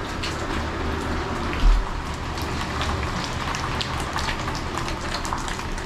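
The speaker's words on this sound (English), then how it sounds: "Raining, bad weather." Steady rain falls in Salou, a dense continuous hiss of drops with one brief louder thump partway through.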